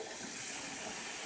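Tap water pouring steadily into a pot of washed rice, filling it up to the third-cup mark in a home kitchen, a continuous close gushing stream with no pauses.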